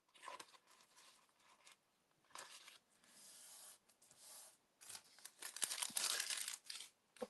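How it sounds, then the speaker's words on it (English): Excess paper folded back over a scrapbook layout instead of being cut off, heard as close, intermittent crinkling and rubbing bursts that grow denser and louder toward the end, with no talking. "instead of cutting it off, I'm just going to fold it to the back side"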